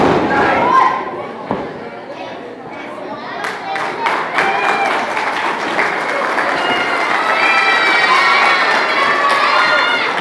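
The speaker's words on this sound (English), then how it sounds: "Definitely the Southern Maryland crowd is in appreciation for even Sonjay to grace us with his presence" Southern Maryland crowd at a live wrestling showcase cheering, clapping and shouting steadily throughout, rising in energy toward the end, with a commentator talking over it.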